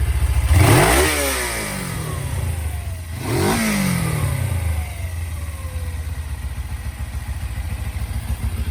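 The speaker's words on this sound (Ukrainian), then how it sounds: "Такий в нас вихлоп. Вихлоп у нас заводський. Тихенький, ну заведи" A Suzuki GS500E motorcycle with its stock exhaust revs sharply twice, each throttle blip rising and falling, then settles into a steady, fairly close idle.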